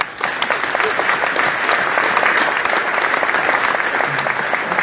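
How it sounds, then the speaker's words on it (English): Steady audience applause at an entrepreneur contest event, many hands clapping densely and continuously at moderate loudness with no talk over it. "are here to give them a quick round of applause, please"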